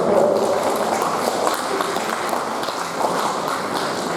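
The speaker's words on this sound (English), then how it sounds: "can you give a round of applause?" A round of applause from an audience at an interfaith community gathering, a steady dense patter of many hands clapping, moderately loud and sustained without pause.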